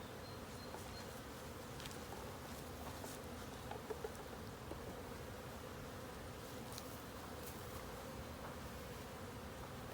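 Honey bees buzzing around an open hive during an inspection, a continuous dense drone with individual bees passing close now and then, soft and steady throughout.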